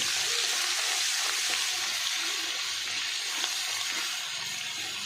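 Spice paste being mixed into vegetables frying in oil for bhoghichi bhaji, a loud, dense, unbroken sizzle with occasional faint stirring knocks, close up and without speech.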